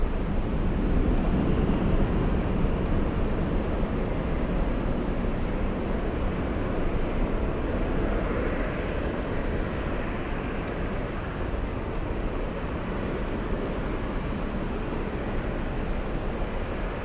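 A big jet roaring on takeoff at LAX airport, a loud continuous broadband engine rumble held steadily at close range for the whole stretch, with no voices over it.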